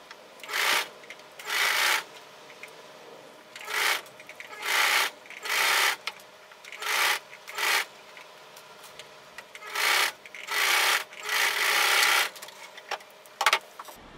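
A sewing machine stitches the seams of pajama pants in a dozen short, whirring bursts separated by brief pauses, close and fairly loud.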